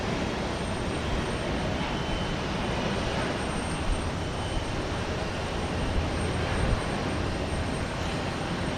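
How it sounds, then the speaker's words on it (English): Volaris Airbus A320 jet taking off from runway 15 left at Houston Intercontinental, heard as a steady, broad engine roar that holds at a constant loudness without pause. "Volaris is taking off for Morelia in Mexico."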